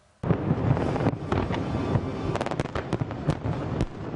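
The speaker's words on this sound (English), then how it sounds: "the spectacular fireworks display that wrapped up the International Fleet Review celebrations" A large fireworks display over Sydney Harbour closing the International Fleet Review celebrations, with dense crackling bursts and sharp pops over constant wind noise on the microphone.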